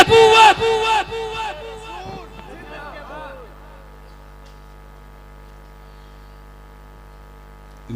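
A large crowd at an Urs gathering roars back a takbir chant in a loud, brief burst of massed voices, which then fades into a hall's reverberant hum.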